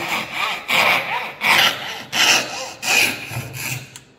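A coping saw cuts a rectangle out of thin wooden board in steady back-and-forth strokes, about six rasping pushes in a regular rhythm, close and fairly loud, each stroke separated by a brief pause.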